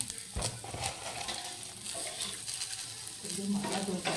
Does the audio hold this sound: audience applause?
no